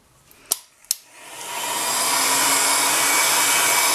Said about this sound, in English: now I'm going to use my heat gun on my middle heat setting to just bake this